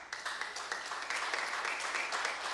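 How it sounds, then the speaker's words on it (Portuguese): Congregation applauding in church, a continuous soft patter of many hands clapping at a distance, fairly quiet and even throughout. "Mas aplaude com fé."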